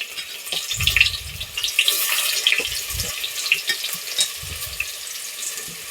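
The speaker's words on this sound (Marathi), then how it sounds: "टोमॅटो आणि कांदा चांगला भाजून घ्यायचा हा ओला कांदा आहे तर हा भाजून घ्यायचा पहिल्यांदा त्यामध्ये टोमॅटो टाकून भाजून घ्यायचं" Tomato and onion frying in a pan for a Maharashtrian mixed vegetable curry, with a continuous hissing sizzle and occasional low stirring scrapes.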